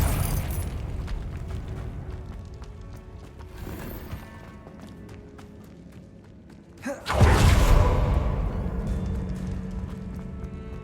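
A Confringo spell blast in Hogwarts Legacy hits with a sudden loud explosive burst that rumbles on and slowly fades, following a quieter stretch of footsteps and ambient game noise.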